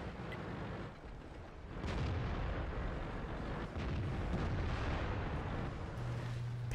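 Tank cannon fire in the World of Tanks game, deep rumbling booms and blasts layered over a heavy continuous battle din, with a sharp burst near the end.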